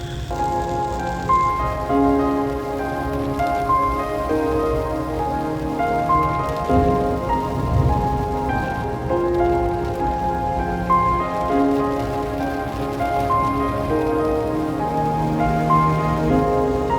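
Steady rain pours in the Agumbe rainforest, an even hiss of drops on surfaces running throughout beneath a continuous layer of mellow music.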